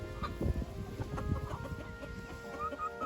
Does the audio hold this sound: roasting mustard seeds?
no